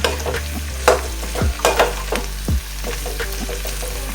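Onion frying in a pan and being stirred, close sizzling with a few sharp scrapes and clinks of the spoon against the pan over a couple of seconds.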